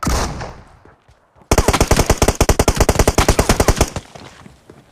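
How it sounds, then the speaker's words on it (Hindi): Gunfire in PUBG Mobile Metro Royale: after a near-silent pause, a loud, rapid automatic burst of roughly twenty evenly spaced shots that ends abruptly, leaving quieter game ambience. "ये फायर वो कहाँ कर रहा था"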